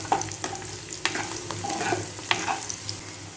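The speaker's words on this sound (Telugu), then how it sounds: "ఇది మంచిగా బ్రౌన్గా అవ్వాలి బ్రౌన్గా అవుతేనే మంచి టేస్ట్ సో బ్రౌన్గా వేపుదాం" Sliced onions frying in oil until brown, a moderate sizzle with several sharp spoon scrapes and knocks as they are stirred, close and brief, without speech.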